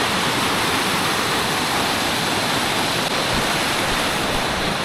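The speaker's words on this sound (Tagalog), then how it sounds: "medyo malakas na yung agos ngayong hapon compared to kaninang morning" A strong river current on Mt Napulak in Igbaras, Iloilo rushes loudly and steadily, a dense continuous roar of flowing water heard close with no other sounds.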